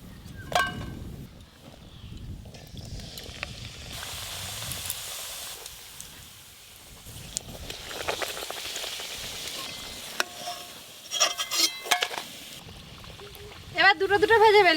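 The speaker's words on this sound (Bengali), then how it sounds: "এবার লুচিগুলো ভেজে নেব।" Semolina luchi fry in hot oil with a continuous bubbling hiss and sizzle, rising in bursts as more are dropped in, while voices talk intermittently over it.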